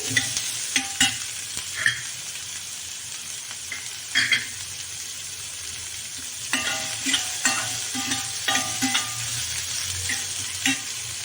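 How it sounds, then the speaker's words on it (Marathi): Chopped onion and green chili fry in hot oil in a pan, a continuous sizzle broken by the scrape and tap of stirring. "आपण त्यात आता कांदा टाकून घेतला हिरवी मिरची टाकून घेतलेली आहे थोडंसं आपण कांदा चांगला लालसर होऊ देऊ"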